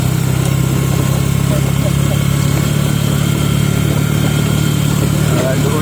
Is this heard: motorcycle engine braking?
yes